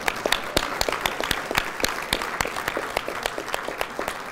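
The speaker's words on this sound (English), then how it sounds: "A round of applause for State Representative Larry Larrañaga" Audience at a city news conference in Albuquerque clapping for a state representative, a moderate round of distinct, fairly quick handclaps, no voices over it.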